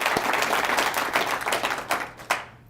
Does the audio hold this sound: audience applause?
yes